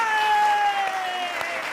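An audience applauds at a Hindi satirical poetry show, a steady wash of many clapping hands under a sustained voice throughout.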